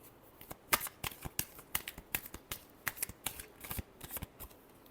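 Tarot cards being shuffled by hand, a close run of crisp flicks and riffling snaps in quick irregular bursts over several seconds in a quiet room.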